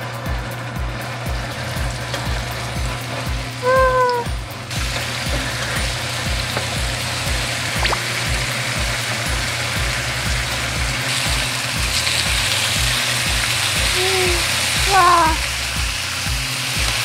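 Bone-in beef short ribs (galbi), marinated with pineapple, sizzle and fry steadily in an oily pan at close range, a continuous crackling hiss with faint higher clinks of utensils now and then.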